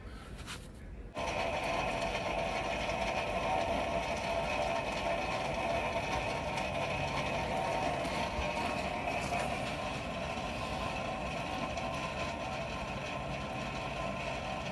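The side-draft hood over a blacksmith's coal forge switches on after a brief quiet moment and then runs at full blast, a loud, steady whoosh of fan and rushing air with a constant hum that holds to the end.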